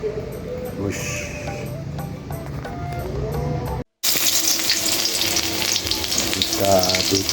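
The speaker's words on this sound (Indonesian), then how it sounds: "Nah, ini goreng dulu bawang merah dan bawang putih" Sliced shallots and garlic fry for fried rice. After a brief silence, a loud, dense sizzle starts and holds steady to the end, following an earlier stretch of other kitchen sounds.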